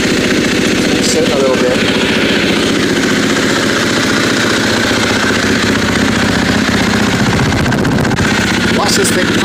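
A KTM 350 SX-F four-stroke dirt bike engine runs loud and close at a steady idle throughout, with someone talking briefly over it.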